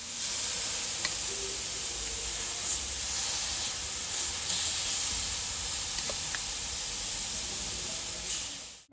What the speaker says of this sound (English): we're ready to grill the chicken